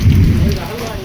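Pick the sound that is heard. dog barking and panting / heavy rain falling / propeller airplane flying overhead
heavy rain falling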